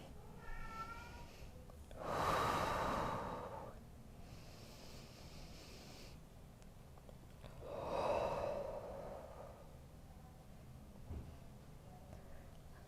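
Two slow, deep breaths during a beginner yoga fold, each a long, soft exhale or sigh lasting a couple of seconds, heard close and alone against quiet room tone.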